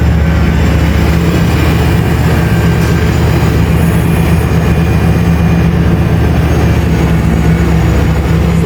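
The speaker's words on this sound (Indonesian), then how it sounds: "Jadi difungsikan secara maksimal dengan RPM mesin yang tinggi." Hitachi EX3600-6 mining excavator running at high engine RPM with all hydraulic functions working, a loud, constant heavy diesel drone with a deep low hum and steady mechanical whine, close and unbroken.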